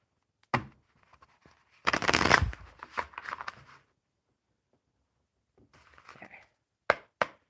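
A deck of playing cards being shuffled by hand at a table, heard as several sharp riffling bursts separated by silence, with a couple of quick card snaps near the end.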